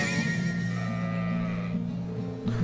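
A sheep bleats continuously in the video game Trails of Cold Steel, a sustained, wavering, nasal call that sits up close over a steady game soundtrack.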